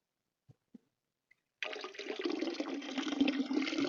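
After a few small clicks, water from a rain barrel starts gushing steadily into a jug, a close, continuous splashing pour.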